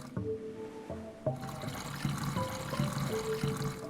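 Water pours into a freshwater bucket in the survival game Stranded Deep, a steady gurgling fill with small splashes and bubbling that runs continuously for several seconds, with no talking.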